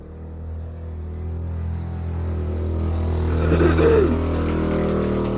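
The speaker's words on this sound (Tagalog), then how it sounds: "Ingay ng motorsiklo guys." A motorcycle passes outside a shop, its engine rising to a peak near the middle of the clip and then fading, over a steady low background hum.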